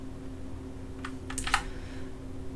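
A few quick keystrokes on a computer keyboard enter CAD commands. The taps are light and close, over a steady low hum.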